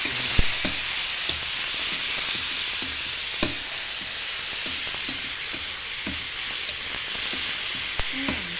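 Aromatics stir-frying in a hot pan for sweet and sour fish, a steady close sizzle with scattered crackles and occasional spatula scrapes and taps, no talking.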